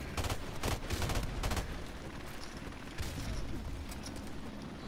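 M16 rifle shots in Call of Duty Modern Warfare Remastered on the Shipment map come as a quick cluster of sharp cracks early on, followed by scattered distant gunfire and game noise.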